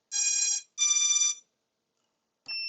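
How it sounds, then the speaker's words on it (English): A Vifly Finder lost-model buzzer sounds up close and loud. Two long, shrill electronic beeps come about half a second apart, followed after a pause by the start of a third tone. "I'll skip forward to when it's actually buzzing, and it's buzzing away now."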